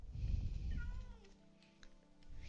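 A house cat meows softly a couple of times, rising and falling, faint and close, with a low rumble and some handling noise underneath.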